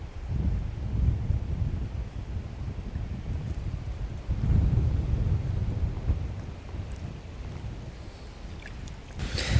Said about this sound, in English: I miss wind, I miss the rain, I miss the clouds